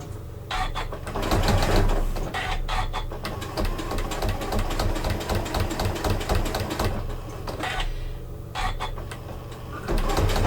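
A Janome sewing machine stitches quilt binding on a small square, its motor running in a fairly loud, steady mechanical whir with rapid needle clatter and brief pauses between runs.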